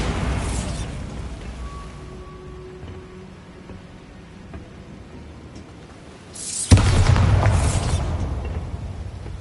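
The Bombarda spell goes off in Hogwarts Legacy as one loud, booming explosion about two-thirds of the way through, bursting out of a quiet ambient stretch and trailing into a rumbling roar.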